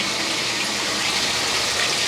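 Water rushes steadily into a dishwasher as it fills, a loud continuous broadband gush with no pauses and no voices over it.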